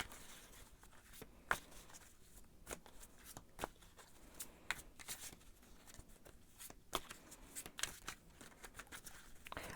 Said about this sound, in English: I'm gonna shuffle a little bit more.